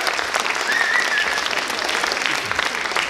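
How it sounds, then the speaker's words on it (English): Steady applause from an audience at a science show fills the whole clip, dense clapping at an even level without a break. "Give him a big round of applause"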